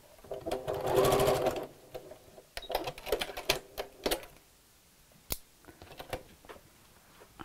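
Short bursts of a sewing machine running tacking stitches within the seam allowance of a dust cover, quick clattering runs separated by pauses and small clicks, close and fairly loud.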